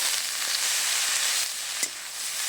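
Spinach (tok palong) and prawns sizzle steadily in hot oil, a continuous bright frying hiss that dips briefly and carries one sharp stir-like click partway through, with no voices.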